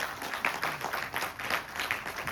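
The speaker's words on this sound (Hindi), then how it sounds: "उनके लिए तालियां बजाओ ना" A seminar audience claps in a steady, moderately loud ripple of applause that carries on without pause, with no voices standing out.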